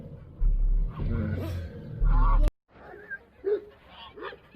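Loud goose honks ring out in bursts on a farm, followed by quieter, scattered calls and background chatter outdoors.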